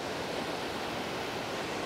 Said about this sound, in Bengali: পানি শব্দ পাচ্ছেন আপনারা নিশ্চয়ই, হয়তো দেখতে পাচ্ছেন না, কিন্তু শব্দ হচ্ছে, খুব প্রচুর শব্দ